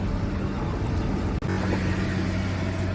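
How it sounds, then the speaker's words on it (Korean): A car on a highway gives off a strange, tank-like grinding rumble: a steady, loud, low drone with droning tones that cuts out for an instant partway through, with no talking. "차 소리도 이상해. 탱크 가는 소리가 나고 아까부터."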